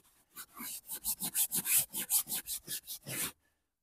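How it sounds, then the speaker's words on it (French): A hand brush scrubs wet carpet during extraction cleaning with a shampoo machine, making about a dozen quick, rhythmic scratchy strokes at a steady pace before stopping, fairly faint and with no voices. "Il y a un petit coup de brosse pour aider."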